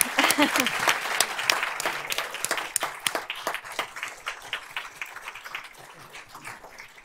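Board meeting audience claps together, a scattered burst of hand claps that starts full and gradually thins out over several seconds, with some voices mixed in.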